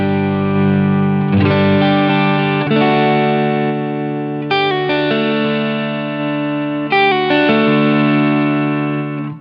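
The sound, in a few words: electric guitar with chorus effect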